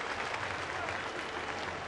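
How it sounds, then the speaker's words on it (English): A large baseball stadium crowd applauds steadily as a pitcher walks off toward the dugout, a dense, even wash of clapping that holds at the same level for the whole stretch with no break. "he's going to get a round of applause as he goes to the dugout"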